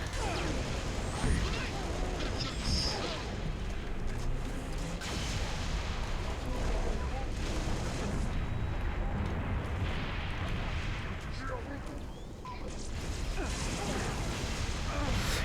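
Grenade explosions from the Halo: Reach video game, a dense continuous barrage of booming blasts and crashes filling the whole stretch, loud and constant with little pause.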